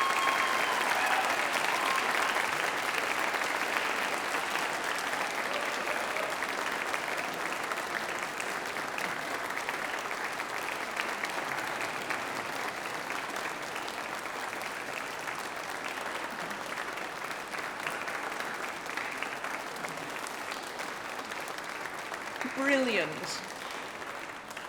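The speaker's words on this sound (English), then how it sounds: "give your friends and families a huge round of applause" A large audience at a University of Manchester graduation ceremony applauds friends and families in sustained, dense clapping that fills the hall for over twenty seconds, then fades as a voice speaks briefly at the end.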